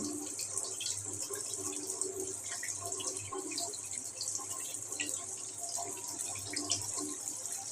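A kitchen tap runs steadily while fish are rinsed under it, giving continuous close splashing with small irregular drips and clatter and no speech.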